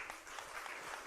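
A congregation at a Sunday evening church service applauds youth students, a brief, fairly quiet patter of many hands clapping together at a distance.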